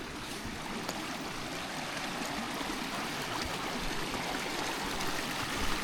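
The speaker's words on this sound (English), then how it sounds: "we've got enough water to cross for Bella." Water in a Dartmoor moorland stream rushes and burbles continuously at close range, a full, steady flowing sound with faint splashy ticks and no voices.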